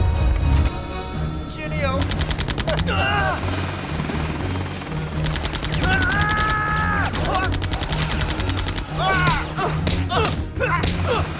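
Animated combat scene with a helicopter's steady rotor drone and bursts of rapid gunfire, bright whistling and whining effects rising over it, while voices shout briefly.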